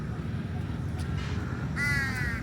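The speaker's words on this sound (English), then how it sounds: "A lot of birds." Crows caw repeatedly in a small park in Bangkok's old town, the harsh calls rising clearly near the end over a steady low rumble of city traffic.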